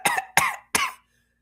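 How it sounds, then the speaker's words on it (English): Three sharp coughs in quick succession, close and clear, followed by silence. "Why are you coughing over there?"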